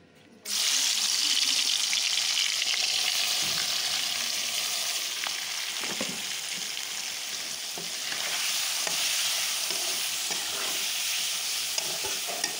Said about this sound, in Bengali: তেলের উপরে মাছটা দিয়ে দিলাম।